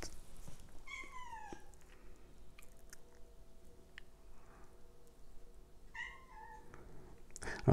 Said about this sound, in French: Alors, je suis attaqué par un chat encore.